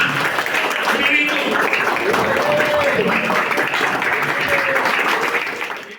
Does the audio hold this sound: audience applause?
yes